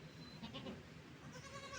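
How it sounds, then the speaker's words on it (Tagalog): Goat, the largest of the herd, bleating faintly on a small farm with a couple of short wavering calls over quiet background noise. "Ito yung pinakamalaki guys na kambing."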